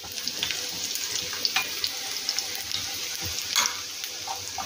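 Pakoras frying in shallow cooking oil give a steady, close hiss and crackle, with occasional small clinks and a brief louder burst of sizzling near the end.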